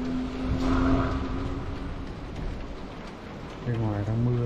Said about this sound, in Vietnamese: Bên ngoài đang mưa rất là to.